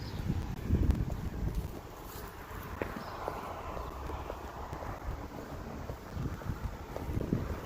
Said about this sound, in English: Holy shit, it's starting to get windy outside.